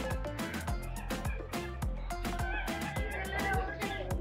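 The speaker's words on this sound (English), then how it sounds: "Ducks, it's ducks and chickens." Chickens and ducks at a busy market in San Jose, Costa Rica, cluck and squawk in steady, dense, overlapping bursts close by.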